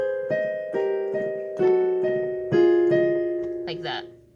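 Solo piano plays a short song phrase of four separate sustained chords, fairly quiet, with a brief voice at the very end.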